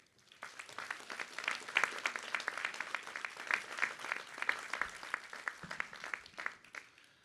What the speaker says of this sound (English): Please join me in giving a round of applause to everyone who has provided guidance and support to our incredible medical students.